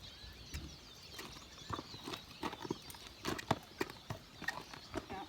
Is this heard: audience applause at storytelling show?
no